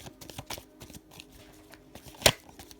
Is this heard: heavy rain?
no